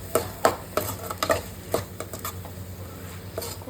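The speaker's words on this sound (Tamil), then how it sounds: "கொஞ்சமாக இந்த கரம் மசாலா பொடி போட்டு நல்லா மிக்ஸ் பண்ணிக்கலாம்." Garam masala powder being stirred into curry leaves frying in a pan, with a series of close, distinct scraping stir strokes over a soft sizzle, then quieter stirring.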